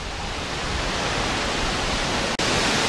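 Steady roar of a waterfall at Cloudbridge, Costa Rica, a dense continuous rush of falling water filling the whole clip, loud and close, with one very brief dropout near the end.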